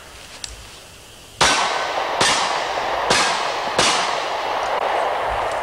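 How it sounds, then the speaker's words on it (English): Four sharp, loud shots from an all-steel Astra A70 9mm handgun fired at steel targets, evenly spaced about a second apart, each ringing briefly after a quiet lead-in. "let's shoot our steel targets here"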